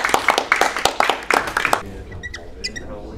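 A small group at a manager workshop event in Lyon clapping in a brisk burst of distinct, close claps that stops abruptly, leaving a quieter room tone with faint scattered sounds.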